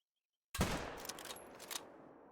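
A single loud rifle shot cracks out at a kangaroo about 200 meters away in the hunting game The Hunter: Call of the Wild, its sharp report followed by a rolling echo that slowly fades.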